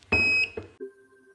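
An electronic hotspot detection alarm system gives a short, sharp high beep, followed by a brief lower steady tone, loud and close.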